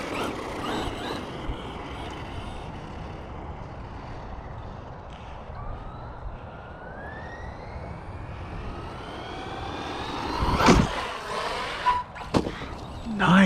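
An Arrma Mojave 4s RC car runs with a steady motor whine that rises and falls in pitch, ending in a few louder, sharper bursts near the end.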